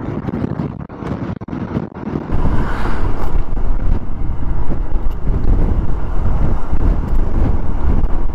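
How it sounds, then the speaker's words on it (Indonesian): Strong gusting wind buffets the microphone on a drive home from Rancabuaya beach toward Bandung via Ciwidey, a dense continuous low roar that starts a bit lighter and then grows steady and loud throughout. "kemudian sekarang waktunya pulang juga cukup kencang anginnya"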